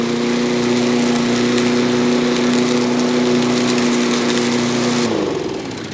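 A John Deere JS63C zero-turn lawn mower engine runs steadily up close, a loud constant drone with a strong tonal hum that cuts off and winds down near the end.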